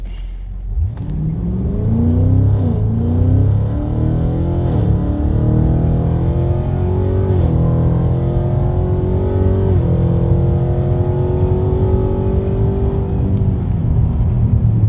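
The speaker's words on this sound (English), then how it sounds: "now we're going to open them up, windows up, and accelerate." A 2023 Cadillac CT5-V Blackwing with a Corsa bi-mode exhaust revs and accelerates steadily, its loud droning exhaust note climbing in pitch through several gear changes, with no talking.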